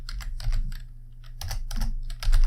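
A computer keyboard is typed on in short clustered bursts of clicking keys, close and moderately loud, while a command is entered for a software setup.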